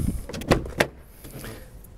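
A sliding door on a wheelchair-accessible car runs along its track, with two sharp clunks close together early on, then a quieter mechanical tail.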